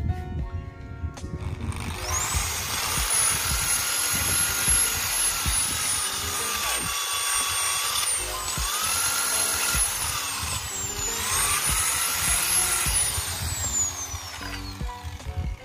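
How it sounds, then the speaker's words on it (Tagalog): A drill fitted with a steel wire brush scrubs rust off an old clutch cover, giving a loud, close whirring grind with rising and falling pitch as the tool loads and speeds up in three long passes. "tatanggalin natin yung kalawang gamit itong drill natin na may steel brush"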